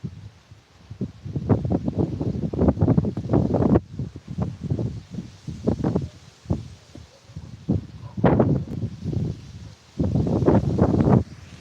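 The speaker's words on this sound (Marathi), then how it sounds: "वारा सुट खूप सुटलाय" Strong wind gusts buffet the microphone in loud, rumbling bursts that rise and fall for the whole stretch, with brief lulls between.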